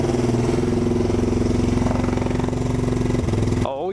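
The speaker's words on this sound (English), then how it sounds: "Bikes are still running pretty good." A Honda CR250 two-stroke dirt bike engine runs steadily, a loud buzzing drone with a rapid pulsing rhythm close by, cutting off abruptly near the end as a voice speaks.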